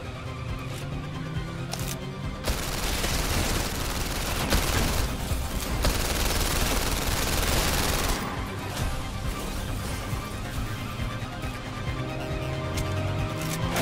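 Sustained rapid gunfire from the virtual reality game PlayStation VR Worlds London Heist, a loud dense barrage that runs for several seconds, eases briefly, then resumes, with no talking over it.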